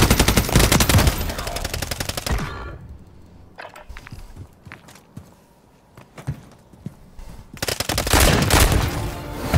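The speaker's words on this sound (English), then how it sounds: "It's a shotgun." Shotgun gunfire in Call of Duty comes as dense, rapid volleys of loud shots, with a quieter stretch of scattered cracks and thuds before another heavy burst.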